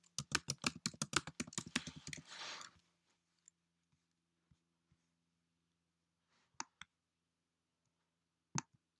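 Rapid typing on a computer keyboard, a quick run of crisp key clicks for about two seconds, then silence with a few isolated taps and clicks, close and fairly quiet.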